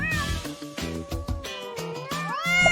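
Several short cat meows in a row, some drawn out and rising, heard over a light musical background.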